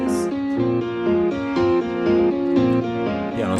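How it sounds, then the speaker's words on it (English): A layered grand piano melody from Ableton rings out with rich, sustained chords over a full backing, steady and fairly loud throughout. "I start with layering this melody with grand piano from Ableton"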